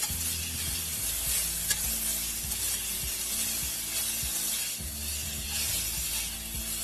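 Chopped green chilies tossed and stirred in a hot pan for a vegetable side dish, a steady broadband sizzle with repeated scraping and clattering stir strokes, close and fairly loud throughout, no voices.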